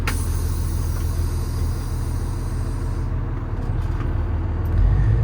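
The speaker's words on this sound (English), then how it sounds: "Turn the AC down so you can hear the engine" A steady, low rumbling engine of a 2008 Kenworth T370 service truck idling nearby, a constant throbbing drone with no talk.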